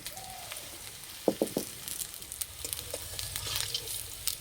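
Potato pakoras fry in hot oil over a low flame, giving a steady soft sizzle with a few louder crackles and pops near the start. No one speaks.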